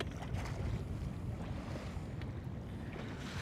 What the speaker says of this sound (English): 12 feet of water and the wind is blowing